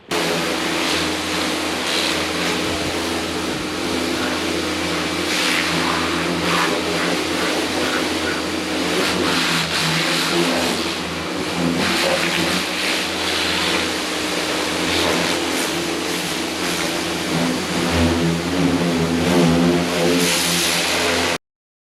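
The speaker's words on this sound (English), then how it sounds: "I'm going to back it out of the shed now and give it a wash." A Holden VN car's engine runs steadily as it is backed out of a shed, with a continuous mid-pitched drone and some revving that stays near and fairly loud throughout.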